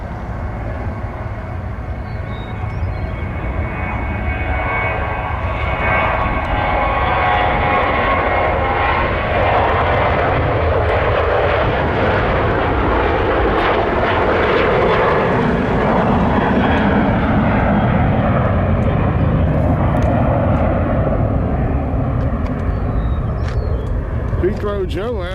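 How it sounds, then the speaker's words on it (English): A Southwest Airlines jet airliner at Nashville International Airport gives a loud, sustained engine roar that swells and holds steady for a long stretch, with people's voices faintly mixed in. "Got a little bit of Southwest action here"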